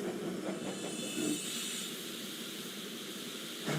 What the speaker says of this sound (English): I'm catching up with a stone train